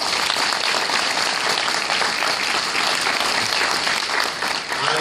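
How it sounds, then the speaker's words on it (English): Sustained, loud applause from a crowd at a scholarship dinner, a continuous dense clapping that holds steady throughout. "so we can give you a big, well-deserved round of applause"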